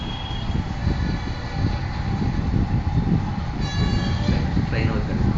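A train passing nearby with a loud, continuous rumble of rolling wagons and a brief horn-like toot near the end, while voices are heard in the background.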